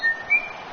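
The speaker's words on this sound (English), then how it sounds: "At the rim, there's the whistle." A short, sharp referee whistle in a basketball video game, sounding in two quick blasts within a fraction of a second.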